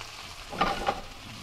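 Flour-dusted shrimp for scampi fry in a pan with a soft, steady sizzle and two brief crackling pops close by, all fairly quiet with no talking.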